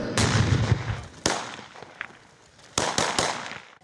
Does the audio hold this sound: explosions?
yes